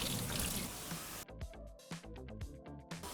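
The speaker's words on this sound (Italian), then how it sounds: "io qui ho già tagliato le patate che ho preventivamente lavato e sbucciato a dadini. Adesso le scolo." Water pours and splashes out as peeled, diced potatoes are drained in a kitchen, starting with a dense rushing gush that breaks into irregular trickles, drips and small splashes, close and fairly soft, with no talking.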